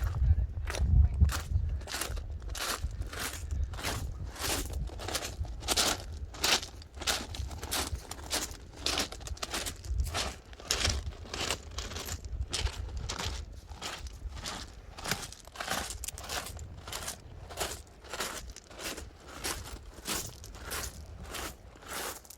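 Steady crunching footsteps on loose pebbles, one after another at an even walking pace, close and moderately loud.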